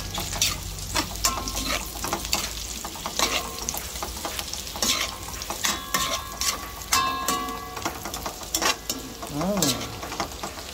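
Adobo pork belly and long beans stirred in a hot pan, a continuous loud sizzle broken by repeated scraping and clinking of a utensil against the pan, close up with no talk.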